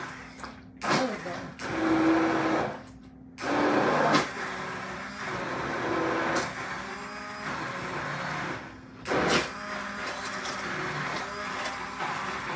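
A kitchen blender whirs steadily while pureeing for homemade ketchup, its motor surging in a few louder pulses and settling again, with a person talking throughout.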